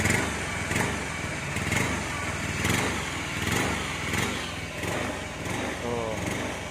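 A motorcycle engine with a faulty throttle position sensor is held at full throttle. It roars loudly and close by, surging unevenly in repeated pulses about once a second.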